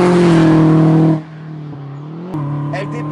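Peugeot 206 S16 engine droning loudly with a steady tone, then easing off as the car lifts off the throttle, before the revs pick back up again close by.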